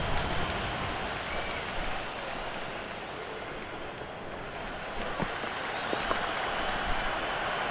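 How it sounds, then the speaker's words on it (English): Cricket crowd at a Big Bash League match between Sydney Sixers and Adelaide Strikers, a steady broad roar of applause and cheering that holds fairly even throughout, with a few sharper claps rising near the end. "The crowd is electric right now."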